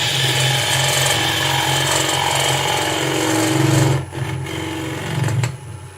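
Wood on a lathe is cut by a pushed woodturning gouge, giving a loud, steady grinding drone with a rhythmic mechanical undertone that dips near the end and then resumes more raggedly.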